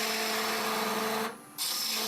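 A wood lathe turning a long-stemmed goblet at slow speed, with a steady tonal hum and the tool's continuous scraping rasp, which breaks off briefly near the end and then resumes.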